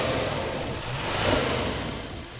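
A 2013 Audi S6's 4-litre twin-turbo V8 revs briefly, a loud, steady engine roar swelling slightly midway, with no voices.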